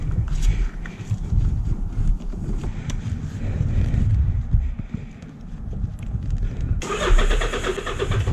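A car engine cranks with a rough, rhythmic churning for several seconds, then catches and runs with a sharper, brighter rumble; the engine is close and fairly loud.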